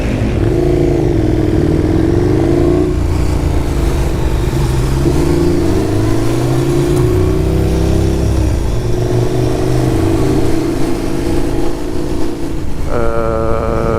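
KTM 1290 Super Duke motorcycle on the road, its engine loud and close throughout, with the note rising and falling through gear changes and a sharp rev climb near the end, heard alone.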